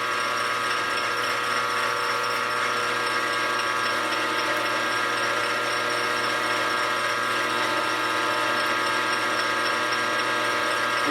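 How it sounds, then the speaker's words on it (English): A drill steadily bores a half-inch hole into metal in a home shop during a hydraulic press build, its continuous whine and mechanical hum running unbroken with no talking. "we're gonna drill a half-inch hole in here first"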